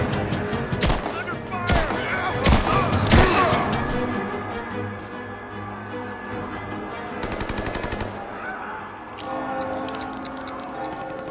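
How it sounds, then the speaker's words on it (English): Gunfire in Tomb Raider: rapid machine-gun bursts and single loud shots close by, rattling fusillades with a steady game soundscape underneath and voices calling out. "Give me covering fire! Opening fire!"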